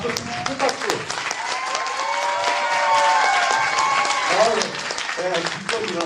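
Applause from the audience at a church evening gathering during a youth vision camp, a steady wash of clapping mixed with crowd voices and some talk, loud and continuous for several seconds before thinning out.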